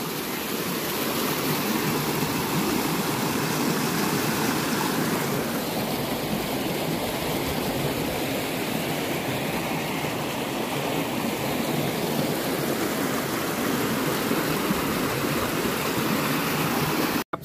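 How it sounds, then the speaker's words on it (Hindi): Water rushes steadily over Khadanja waterfall near Mirzapur, a dense, even roar of falling and flowing water filling the scene without pause, heard alone with no voices. "पानी का बहाव अत्यधिक तेज नहीं है"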